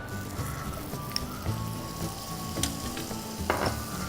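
Vegetables sauté in butter in a hot pan, giving a continuous moderate sizzle with light clicks and stirring knocks, alone and without talk.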